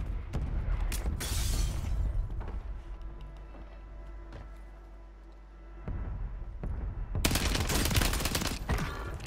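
Loud bursts of automatic gunfire in the video game Call of Duty Warzone: a heavy rattling volley at the start, a quieter stretch, then another sustained fusillade near the end.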